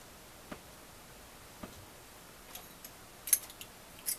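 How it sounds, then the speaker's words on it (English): Scissors trimming the edge of a paper craft piece give a few faint, sparse snips and clicks spread across an otherwise quiet stretch, with no talking. "I have to trim it with my scissors."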